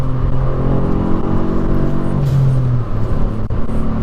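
A modified Volkswagen Up GTI engine revs hard toward its rev limiter from inside the car, a loud droning tone climbing in pitch over heavy road rumble, with no talking.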